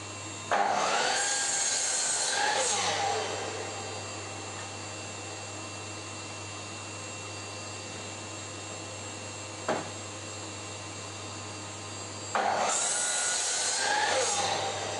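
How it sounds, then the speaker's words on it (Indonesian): A miter saw set to a 15-degree angle cuts through wood in two loud bursts at the start and end, with a steady motor hum and a low electrical drone running between them. "Kita akan coba dengan menggunakan meter saw."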